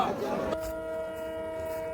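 A train pulls into Katlicherra station in a long, steady rumble of wheels and engine. A sustained tonal note rises over it after a brief louder burst near the start, and a voice speaks over the noise.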